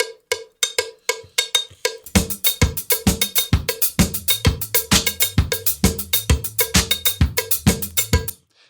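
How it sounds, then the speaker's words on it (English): A cowbell from a disco song rings out alone at first, then keeps a steady, even rhythm over a thumping disco beat with kick and claps, loud and close throughout. "And then you have a cowbell, which is doing this."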